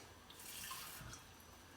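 A small splash of water, about a tablespoon, is poured into a pan of oiled vegetables, giving a faint, brief trickle and hiss against a quiet kitchen background.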